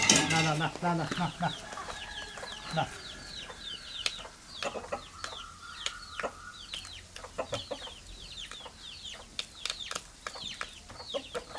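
A flock of egg-laying hens clucks steadily nearby, with overlapping short calls and occasional louder squawks in an uneven rhythm throughout.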